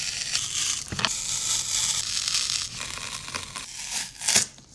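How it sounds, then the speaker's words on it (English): A screwdriver prying a painted fixture off gives scraping, crinkling and tearing noises with a few sharper cracks and a louder crack near the end, close by and uneven. "Using this screwdriver to get this off, hopefully."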